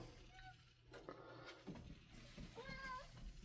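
A cat meows briefly a couple of times near the end, faint and somewhat distant, amid outdoor background noise and intermittent human voices.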